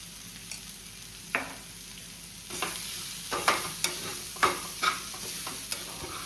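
A spoon stirs and taps in a pan of egg mixture, giving a series of sharp clinks and scrapes over a soft background sizzle, close and fairly quiet.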